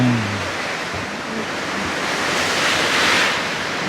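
Heavy rain driven by gusting wind soaks a roof in a dense, steady wash of noise that stays loud and close throughout, swelling slightly near the end, with no voices.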